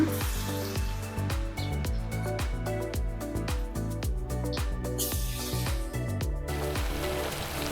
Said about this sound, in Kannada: ಇವಾಗ ನೋಡಿ ಎಣ್ಣೆ ಬಿಸಿಯಾಗಿದೆ, ನಾನು ವಡೆ ಹಾಕ್ತಾಯಿದ್ದೀನಿ.